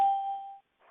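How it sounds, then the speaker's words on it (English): Single clear electronic chime tone sounding at the start of an interview, sustaining briefly and fading out, with a faint voice following. "we are unable to turn off those chimes"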